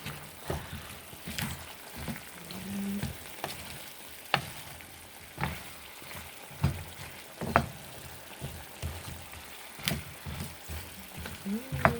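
Pot of food with potatoes boiling, a soft continuous bubbling and sizzle with occasional sharp clicks and clatters at a moderate distance, with faint talk in places.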